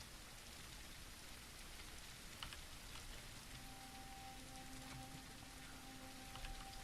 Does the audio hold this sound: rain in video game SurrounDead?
yes